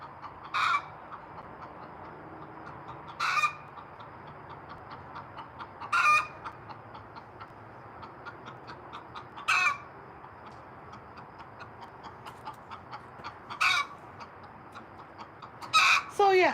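A backyard chicken clucks in soft, repeated calls close by, with several sharper, louder squawks spaced every few seconds over a quiet background.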